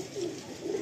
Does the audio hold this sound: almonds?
no